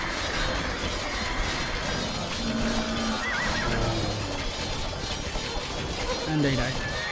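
A horse neighs and whinnies in Age of Empires 2 during a Mongol campaign battle, several whinnies rising over constant game noise, with hoofbeats and clatter, and a voice talks over part of it.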